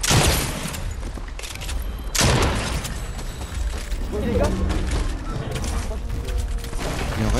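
Gunfire from the video game Fortnite rattles in dense, loud bursts throughout, with voices talking over the shooting.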